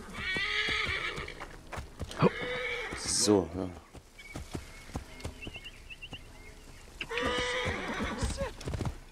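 A horse in Assassin's Creed Origins whinnies loudly and its hooves clip-clop, with neighs at the start and end and footfalls between them, while someone talks over the game audio.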